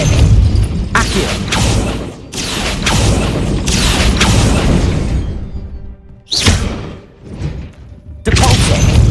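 Hogwarts Legacy spell effects from Levioso, Depulso and Accio, a loud run of whooshing blasts, thuds and crashing bursts, several in a row with short gaps, close and dense.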